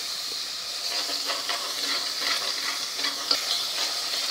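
A ground coriander and garlic masala sautéing in hot oil for a mixed vegetable dish, a bright hissing sizzle with rhythmic stirring scrapes and small crackles, steady and close with no voices.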